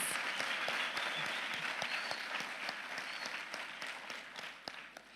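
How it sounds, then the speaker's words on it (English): A ceremony crowd gives a round of applause for two student speakers; fairly faint, steady clapping from many hands with a few sharper individual claps, slowly fading toward the end. "Let's give both our student speakers another round of applause."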